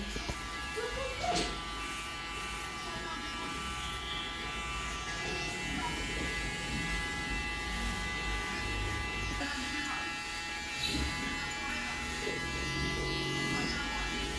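Barber's electric clippers buzz steadily through a haircut in a barbershop, a continuous close hum running the whole time under chatter and laughter from several people.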